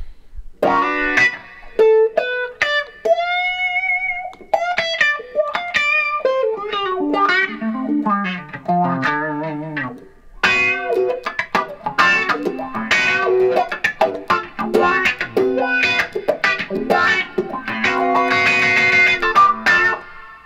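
An electric guitar runs through an expression pedal on a pedal board with its reverb turned down, playing melodic lines and then strummed rhythm with a sweeping tonal shift, loud and alone with no talking.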